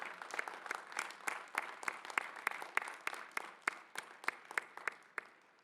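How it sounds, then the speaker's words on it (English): Applause from a crowd at a Northeastern University graduate commencement ceremony, held on Mother's Day in 2021, with individual hand claps standing out in a steady, moderately loud round that tapers off near the end. "Let's give them a big round of applause."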